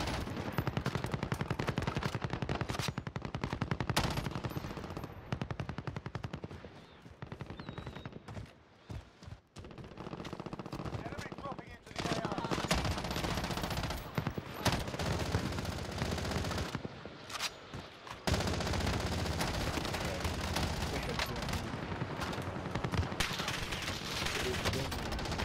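Rapid bursts of video game gunfire, automatic weapons rattling repeatedly with brief pauses as the weapon runs out of ammo fast, loud and close throughout, with occasional voices underneath.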